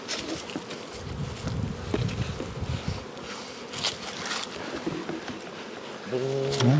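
Honey bees buzzing at an opened hive during a late winter hive check, a dense continuous hum up close, with people talking over it in places.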